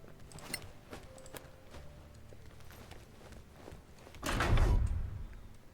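A heavy door in the fantasy role-playing game Solasta opens with a loud swell of noise near the end, after a stretch of quiet interior ambience with soft clicks and footstep-like taps.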